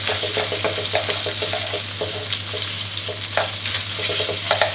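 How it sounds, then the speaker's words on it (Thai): Sliced pork and shiitake mushrooms stir-fried in hot oil over high heat for yakisoba make a loud, steady sizzle, with quick scraping stirs and clicks throughout and no voices. "ตามด้วยเห็ดหอมครับ ผัดใช้ไฟแรงได้เลยนะครับ ดีให้หมูกับเห็ดกระจายตัวครับโดยน้ำมันร้อนๆให้ทั่วกันเลย"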